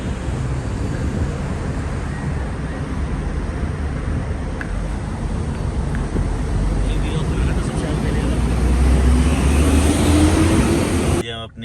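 Inside a moving car on the road to Taif, a loud steady rumble of engine and road noise fills the cabin, swelling slightly toward the end before a brief clunk.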